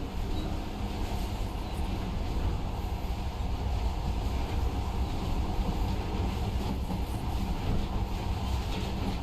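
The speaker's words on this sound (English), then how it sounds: "But now, this monorail seems magic, doesn't it?" A monorail train rolls along in the game Metro Last Light Redux, a steady loud rumble with a faint rattle that never lets up, no voices over it.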